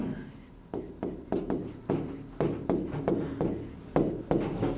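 Marker or chalk scraping across a board in short strokes, a series of close, rhythmic writing sounds with brief gaps, with no speech over them.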